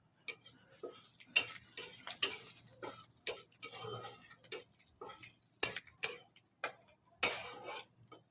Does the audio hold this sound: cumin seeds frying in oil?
yes